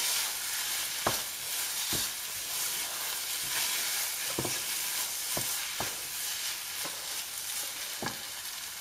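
Bao bun filling stirred and fried in a pan, a steady sizzle broken by several sharp clicks and scrapes of the utensil against the pan, close and moderately loud with no talking.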